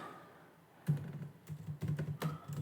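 Typing on a computer keyboard while entering Python code into a notebook, with quick clusters of close, crisp key clicks breaking into uneven bursts and short pauses, and no voices.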